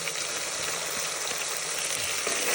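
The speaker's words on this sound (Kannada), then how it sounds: "ಹಸಿಮೆಣಸಿಗೆ ಹಾಕೊಂಡು ಅದೊಂದು ಫ್ರೈ ಮಾಡೋದು" Green chilies frying in a pan with ginger garlic paste, a steady close hiss and sizzle with faint crackles and no voices.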